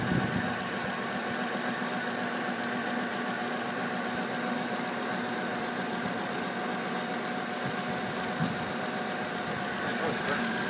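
A van engine idles steadily at close range, a low even drone with faint vibration and no speech.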